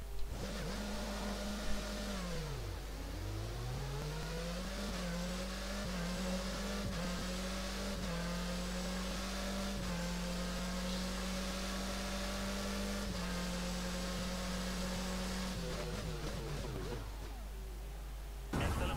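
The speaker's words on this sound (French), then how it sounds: "c'est les nouveaux moteurs V6 hybrides qui ont été installés cette année" High-pitched V6 hybrid Formula 1 engines in a racing video game whine steadily, their pitch sweeping up and down through gear shifts, with a sharp drop near the end.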